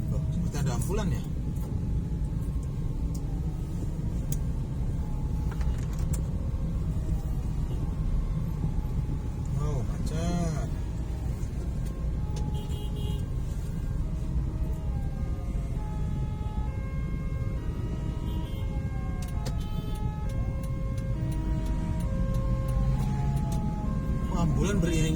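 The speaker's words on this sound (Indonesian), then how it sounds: "Loh, seperti ada ambulan ya?" An ambulance siren wails through street traffic on the Cibiru–Ujungberung road in Bandung, its rising and falling tones growing clearer over a constant engine and road rumble while someone talks throughout.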